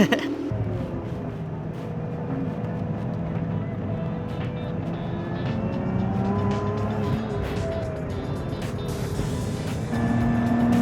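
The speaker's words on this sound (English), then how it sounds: "listen to the exhaust." A Lotus Emira First Edition on Pirelli P Zero tyres runs a hot lap at Sepang circuit, its engine droning steadily with rising and falling revs heard from inside the cabin, and brief voices come through.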